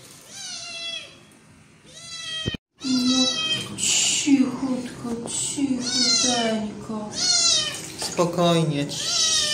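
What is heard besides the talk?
cat meowing while being washed with Japanese shampoo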